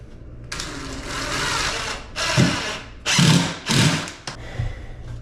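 A drill bores into a wooden board to prepare a screw hole and keep the board from splitting, heard as several separate loud bursts of whirring and grinding with short pauses between them.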